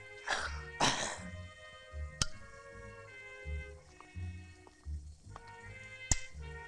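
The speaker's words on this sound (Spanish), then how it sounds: "No, es que me ha dado la tos," A person clears their throat and coughs in a clinical examination setting, two sharp close bursts at the start followed by quieter throaty sounds and faint background tones.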